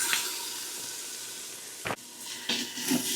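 Diced jalapeno sizzles in a hot Instant Pot, a soft, steady hiss of frying close by, broken by a few short clatters of stirring and no talking.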